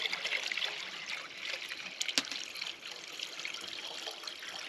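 Maple sap trickling and dripping from tree taps in a sugarbush, a continuous soft liquid flow with scattered drips and one sharper tap, fairly close and steady.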